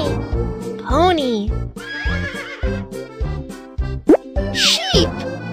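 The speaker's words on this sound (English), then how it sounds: "Pony. Pony." A pony neighs and whinnies several times in a children's animal-sound learning game, with clip-clop hoof taps and soft plops over a bouncy musical backing, loud and close.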